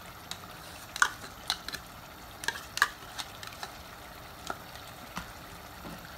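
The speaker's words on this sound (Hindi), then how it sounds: "इसको थोड़ी देर चलाते रहे चमचा, ताकि इसमें गुठलियाँ या कर्डल जो होता है वो नहीं बने" A spoon stirs yogurt into chops in a pan on a low flame, giving scattered soft scrapes and clicks over a faint sizzle, with no talking.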